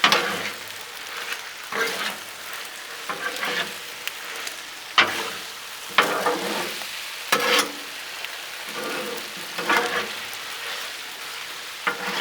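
Orange chicken with broccoli and noodles being stirred on a Blackstone griddle, a steady close sizzle broken by repeated scraping strokes of the spatula at an irregular pace.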